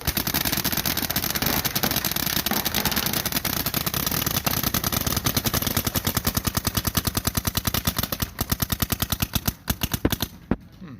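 Three paintball markers, one of them a Planet Eclipse CS2, fire together in a rapid, continuous volley of sharp pops that loosens into distinct shots near the end.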